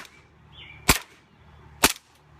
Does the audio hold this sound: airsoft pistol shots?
yes